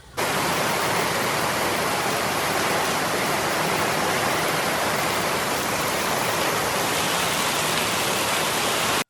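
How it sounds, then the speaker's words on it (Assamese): Heavy, steady rain roars without a break, a dense wash of noise with wind mixed in, loud and close throughout. "বৰষুণ পৰিছে এয়া পুৰা ধৰি আছে, বতাহ মাৰি আছে।"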